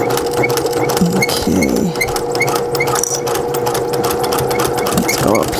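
Domestic sewing machine stitching a fabric coupon wallet, running in a steady fast whirring chatter close up and loud, with a brief spoken word over the motor.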